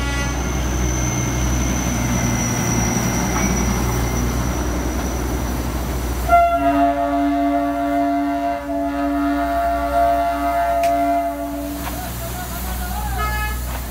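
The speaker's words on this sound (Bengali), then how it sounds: "দার্জিলিংয়ের মেইল ট্রেনটি ছেড়ে দিল শিলিগুড়ির উদ্দেশ্যে। এটি ডিজেল চালিত ইঞ্জিনের ট্রেন।" A diesel-engine mail train on the Darjeeling Himalayan Railway departs Darjeeling for Siliguri, its steady engine rumble overlaid midway by a long, sustained horn blast lasting several seconds.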